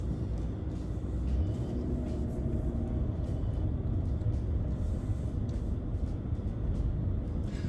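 A 2007 Mercedes CL600 with a 5.5-liter twin-turbo V12 on a test drive, a low steady engine and road rumble droning throughout, heard from inside the cabin without talk.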